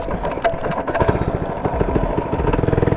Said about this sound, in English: give me the mini bike. I'm hitting him on the mini bike